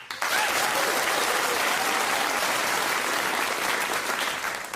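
A studio audience at a comedy panel show breaks into sustained applause for the guests, a dense, steady wash of clapping that starts abruptly and carries on at full strength with no voices over it.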